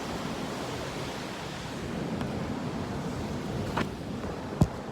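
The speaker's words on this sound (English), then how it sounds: "I'm at the ocean again today." Ocean waves at a beach wash in a steady, soft roar under light wind, with a couple of brief thumps near the end.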